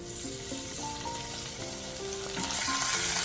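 Garlic, dried chilies and anchovies sizzling in olive oil over medium heat in a pan, a steady close crackle with soft background music.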